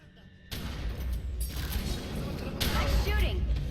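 Gunfire in The Secret World video game, a burst of game action with clattering, mechanical shots and rattling effects that swell louder toward the end, with some voice underneath.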